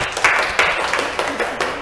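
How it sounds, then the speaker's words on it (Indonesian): Applause from an audience at a classroom teaching presentation, a steady patter of many hands clapping at close range with no talk over it. "Tepuk tangan."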